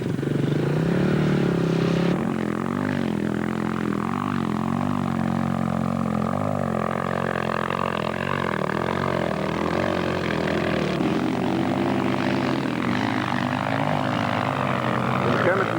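Helicopters engaged in a mock aerial battle at a 1997 show in Eilat, their steady rotor and engine roar continuous and loud throughout, with commentary spoken over it.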